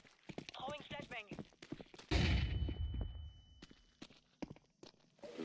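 A flashbang grenade goes off in a tactical shooter match with a sharp burst and a lingering ringing tone, amid scattered footsteps, clicks and players talking over team chat.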